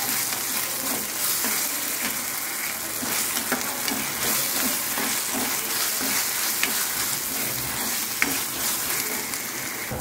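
Ginger garlic paste sizzles with onions in hot oil, a steady dense frying hiss with faint stirring scrapes throughout, close and loud with no voice.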